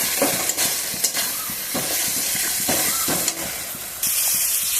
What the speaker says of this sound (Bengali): দিয়ে একটু নাড়াচাড়া করে মিক্সির জারটা দিয়ে একটু জল দিয়ে দেবো